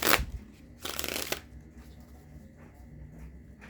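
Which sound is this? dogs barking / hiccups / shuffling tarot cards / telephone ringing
shuffling tarot cards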